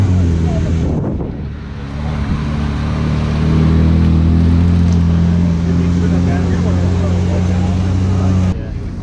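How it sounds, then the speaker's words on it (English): Ferrari 458 driving in at a cars and coffee meet, a loud steady engine drone with a low rumbling tone and wind buffeting, building as the car approaches and holding near. "Guys, check out this Ferrari 458 coming in."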